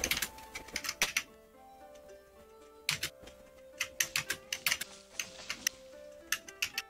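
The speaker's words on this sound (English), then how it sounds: "I'll press one direction on the keyboard and that's it." Computer keyboard keys click in irregular bursts while playing the golf game Golf It, sharp close taps clustered in quick runs over a faint steady background tone.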